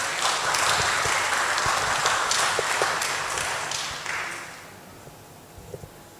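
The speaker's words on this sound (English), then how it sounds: "let's give a big round of applause to all our presenters and moderators" Webinar attendees give presenters and moderators a round of applause, a steady burst of many hands clapping that holds for about four seconds and then fades out to a few scattered claps.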